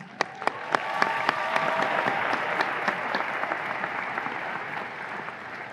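A commencement audience claps for graduating student representatives. A few sharp, separate claps open the clip, then dense, even applause settles in at moderate volume and carries to the end.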